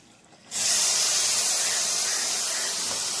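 Fish oil poured into a hot kadai bursts into a loud, sudden hiss that holds steady and bright as it sizzles alone.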